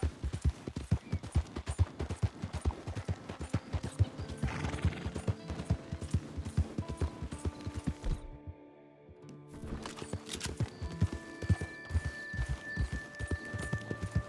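Horse in Red Dead Redemption 2 turning around, steady clip-clop of hooves close up with a whinny, a brief drop to near silence midway, then hoofbeats resume over faint game tones.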